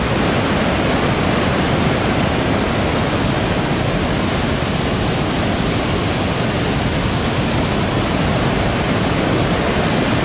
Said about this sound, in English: This river runs into another river cutting through another gorge there.